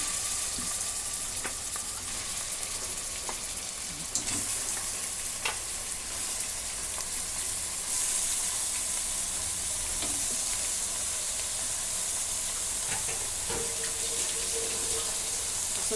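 Mutton sizzling and frying in a pan, a steady loud crackling hiss throughout with occasional sharp clinks and scrapes of stirring, no voices over it.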